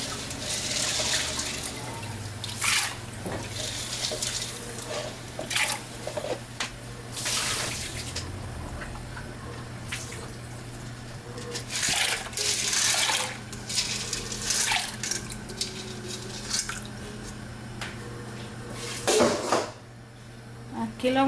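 Soaked, washed pinto-style beans clatter into a metal pot in a home kitchen, with repeated scraping and knocking of utensils against cookware and splashes of running water, loud and close throughout.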